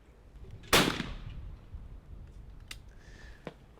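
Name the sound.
shotgun shooting a clay target in Sportrap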